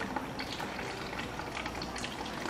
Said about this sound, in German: So, die ersten Tropfen kommen raus.